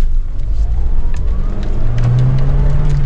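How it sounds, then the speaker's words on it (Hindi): A Mahindra Thar off-road jeep accelerating hard in first gear on a Rajasthan trail, with a loud, steady engine roar whose pitch climbs toward the end, close by and continuous. "ओके ठीक है, फर्स्ट गियर फुल एक्सेलरेशन।"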